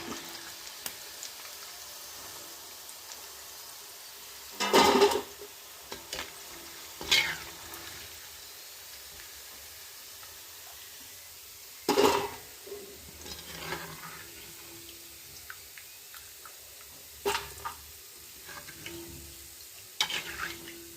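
Fish pieces frying in oil for a tamarind fish pickle, with a faint steady sizzle and several short, louder bursts of stirring and scooping spread through the clip.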